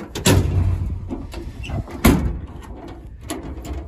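Pull-out drawers on the truck body of a 2014 Ford F550 slide open and shut, with two sharp metallic clunks and rattles among quieter sliding and handling noises.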